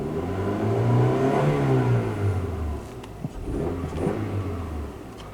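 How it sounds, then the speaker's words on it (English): A 1998 Honda Accord EX with a 2.3L four-cylinder engine runs and revs up close, a steady low drone rising and falling in pitch over several seconds with a few faint clicks. "it is a very smooth 4-cylinder compared to the Highlander and the Camry"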